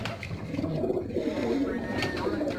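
Pigeons released in a village pigeon-flying contest coo in soft, low repeated calls, close by, over a busy background of murmuring voices and outdoor bustle.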